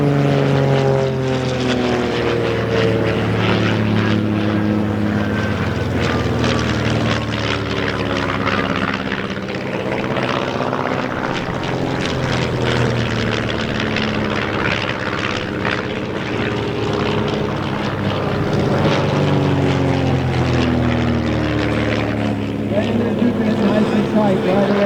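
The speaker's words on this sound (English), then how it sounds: "you set up like this with multiple airplanes coming in to gun the target" Vans RV propeller airplanes roar past at an airshow during a gun-run formation pass, a loud sustained drone with rising and falling pitch as multiple aircraft sweep by.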